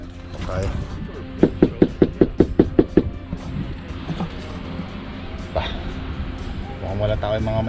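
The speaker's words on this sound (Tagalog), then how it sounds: "Katok tayo." Someone raps on the door of a rural Canadian house in summer with a fast run of about seven loud, close knocks. Speech follows, and outdoor background noise runs through.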